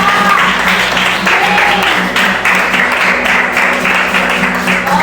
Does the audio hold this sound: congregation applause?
yes